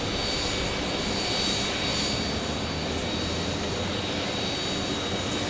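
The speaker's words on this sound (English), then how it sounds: "that E175 is coming back around" Loud, steady roar of an Embraer E175 jet at Phoenix Sky Harbor Airport, a sustained broadband engine rush with a whining high tone, close and continuous for the whole stretch, no voices.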